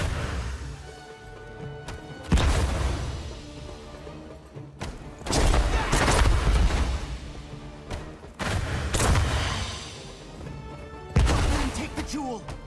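Gunfire and booming impacts in Jumanji: The Video Game come in several loud, spaced bursts, each a cluster of heavy shots with rumbling tails, separated by quieter gaps with faint background sound.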